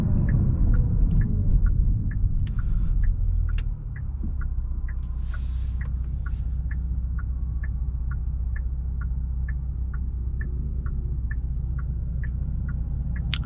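A 2022 Genesis G70 3.3T AWD driving in Sport Plus mode, with a steady low engine and road rumble throughout and a faint, evenly spaced ticking above it, like a turn signal.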